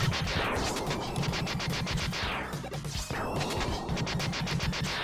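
Crash Bomb explosions in a Mega Man game, sounding as loud rapid bursts of crackling blasts with falling sweeps, repeating several times under continuous game audio.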